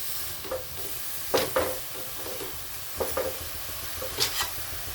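Dill greens are sautéed with onion, garlic and tomato in a pan, a steady low sizzle punctuated by several sharp scrapes and clacks of a spatula stirring at a close distance.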